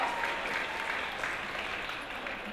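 An audience at a wearable arts show applauds with steady, dense clapping throughout, slowly fading a little toward the end.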